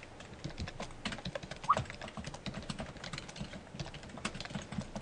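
Steady typing on a computer keyboard, a continuous run of quiet, close key clicks with an irregular rhythm and no voices.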